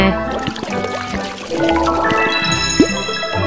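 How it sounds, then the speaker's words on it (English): Cartoon watering of an eggplant in a Baby Panda math game, a synthetic trickling pour with small drips and chimes, close and clear, with no voices. "Let's water the plant."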